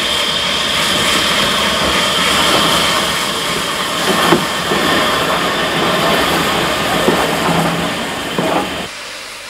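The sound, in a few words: Spanish narrow gauge steam train, 2-6-2 tank engine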